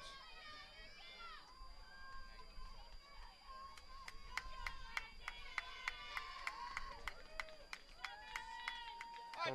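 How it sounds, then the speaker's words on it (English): Hometown fans clapping at a girls high school soccer semifinal, a run of sharp scattered claps building in the second half under an announcer's voice. "See a few more claps from the hometown faithful."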